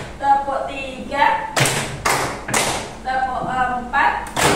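A class claps in unison to a teacher's counting, giving sharp, loud bursts of hand clapping in a steady rhythm, alternating with the teacher's voice leading the count.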